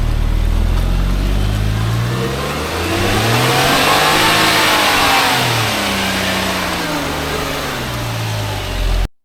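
A Suzuki Jimny JB23W engine idles and revs off-road, the loud nearby motor climbing and falling in pitch through a couple of rev swells before cutting off abruptly at the end.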